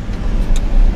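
A U-Haul rental truck being driven, heard from inside as a steady, loud engine and road rumble with a brief rise in hiss, no voices.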